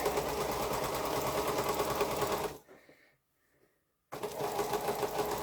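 A sewing machine stitches a curve on a quilt, running in a fast, steady mechanical chatter that stops for about a second and a half of near silence before starting up again at the same pace.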